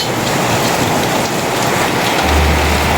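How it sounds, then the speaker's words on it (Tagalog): Heavy typhoon rain pours down steadily, a dense, loud hiss of drops drumming on surfaces, with a low rumble rising near the end. "sobrang lakas po talaga ng ulan dito"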